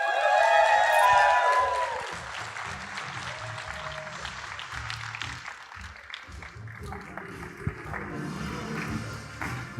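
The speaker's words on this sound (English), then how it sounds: "please join me receiving with a round of applause Patrick Sochinov from Sodexo." Applause from a conference audience welcoming a speaker onstage, a dense burst of clapping loudest in the first two seconds, then thinning into scattered claps and crowd murmur.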